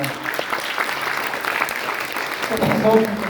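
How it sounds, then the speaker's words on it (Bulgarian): Audience applause at the opening of an Iranian evening at the Menar festival, a sustained wash of clapping that swells near the end as a voice begins. "А сега аплодисменти за господин Ахмади, културен аташе на посолството"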